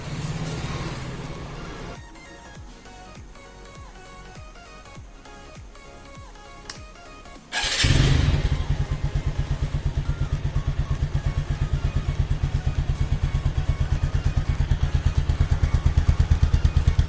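A motorcycle that has sat unused through a lockdown sits quietly with faint clatter and a few thumps, then its engine fires abruptly and settles into a steady, rapid idle that carries on loud and close.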